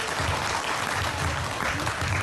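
An audience at a youth forum evening event claps steadily, a dense, continuous burst of applause from a room full of people.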